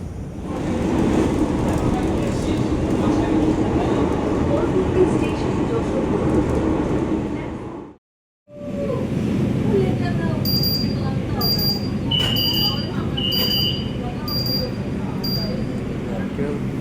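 Kolkata metro train running toward Noapara, a loud continuous rumble and rattle of the carriage interior, cut by a brief silence, then resuming with high electronic beeps and chimes, with voices talking faintly underneath.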